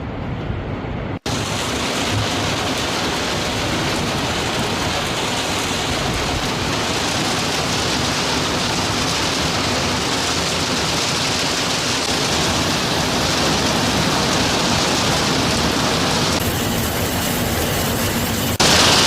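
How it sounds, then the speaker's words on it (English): Heavy rain pours steadily in a forest, a dense, even hiss of downpour that fills the whole stretch without a break, loud and close, with no voices. "The rain began."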